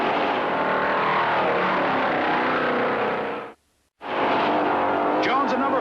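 Stock cars at the 1967 Yankee 300 USAC race, 4,000-pound machines on a twisting road course, roar loudly and steadily past, with a brief dropout of silence before the engine noise resumes, with talk over it.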